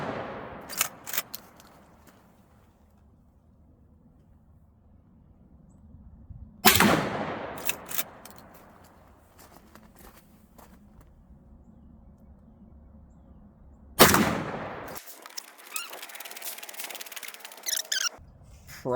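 Cyelee Wolf X Pro shotgun firing slugs at a target outdoors: two loud, sharp blasts spaced several seconds apart, with a few lighter clicks and handling noises in between over quiet background.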